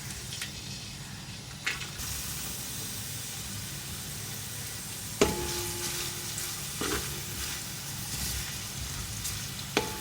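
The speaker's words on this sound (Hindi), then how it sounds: "ऑयल थोड़ा सा गर्म हो जाए तो फिर प्याज डालूँगी।" Finely sliced medium onions frying in hot oil, a continuous close sizzle and hiss with a few clinks of a utensil against the pot.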